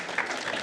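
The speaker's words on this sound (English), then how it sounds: "So I think he deserves a round of applause for that alone." Applause from a conference audience at a live-streamed final conference session, heard as a brief, steady wash of many hands clapping at moderate level with no voices over it.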